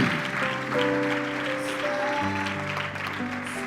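A church congregation claps together in a steady, dense patter under sustained music, continuing throughout at moderate loudness.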